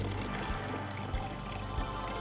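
Water is poured into soda for a pH test, making a continuous splashing, trickling stream that stays moderately loud and close, with no talking.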